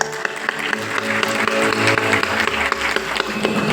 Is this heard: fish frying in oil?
no